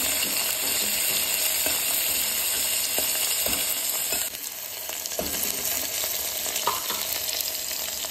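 Mustard seeds, green chilies, onion and curry leaves frying in hot oil for a cabbage and lentil tempering, a steady close sizzle with crackling pops and the scrape of stirring throughout.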